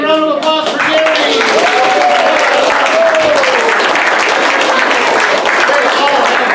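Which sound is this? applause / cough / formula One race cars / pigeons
applause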